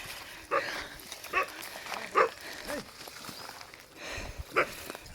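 A dog barks several times at irregular intervals, fairly close, amid outdoor background noise in a place people are leaving.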